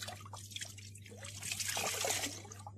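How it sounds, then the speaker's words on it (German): In a 1970 radio drama of a Grimm fairy tale, water trickles and drips as it is squeezed out, a close, steady liquid patter that swells over about three seconds over a low hum. "Ich nehme sogar einen viel kleineren Stein und werde mehr Wasser herausdrücken."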